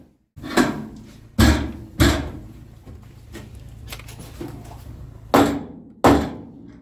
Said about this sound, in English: Can you hammer quieter? It hurts the camera's ears.